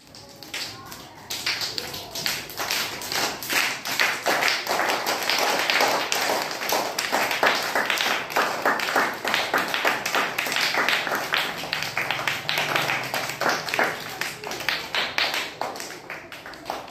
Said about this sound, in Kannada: ಮಳೆ ಚಪ್ಪಾಳೆ ಹೇಗಿರುತ್ತೆ ಈ ಒಂದು ಚಟುವಟಿಕೆಯನ್ನು ಈಗ ನೋಡೋಣ